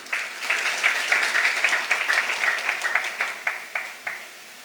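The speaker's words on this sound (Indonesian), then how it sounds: "Tepuk tangan untuk Tuhan Yesus." Church congregation applauding during a sermon, a dense, steady wash of many hands clapping that holds for several seconds, then thins out and fades near the end.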